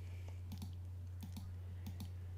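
Computer keys are pressed in three quick double clicks, crisp and close, over a steady low electrical hum.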